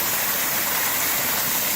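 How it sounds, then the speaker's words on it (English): Steady, dense roar of a waterfall at Waterfalls Park in North Carolina, close and continuous with no talk over it. "waterfall, first waterfall"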